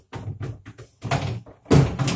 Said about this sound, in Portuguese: Bota essa gaveta. É a briga da gaveta.